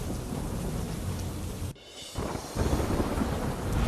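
Heavy rain driven by wind pours down in Nadiad, Kheda district, Gujarat, with deep thunder rumbling beneath a dense, steady roar that briefly thins midway before surging back louder.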